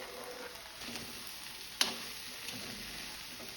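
Carrots tossed into a pan for a mixed vegetable curry, giving a steady soft sizzle with one sharp clatter as they land, then continued quiet frying.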